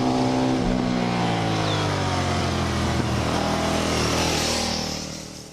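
A KTM 990 SMT motorcycle's large twin engine drones and revs steadily while riding, with shifting engine tones throughout and the noise tapering off at the end.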